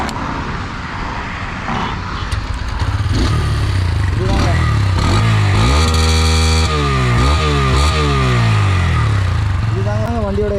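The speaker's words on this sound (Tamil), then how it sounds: "அண்ட் வண்டியோட எக்ஸாஸ்ட் நோட் கேட்கலாம் நம்ம இப்போ." A Bajaj N125 motorcycle idles, then revs repeatedly, its loud exhaust rising and falling in pitch close by. Someone talks over it at the start.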